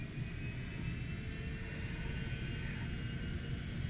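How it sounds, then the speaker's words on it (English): Cessna Citation X jet engines throttled up for takeoff in a flight simulation, a steady rumbling roar with a thin high whine running over it, constant and fairly quiet, no talking. "We set takeoff, go around, takeoff. We advance the throttles."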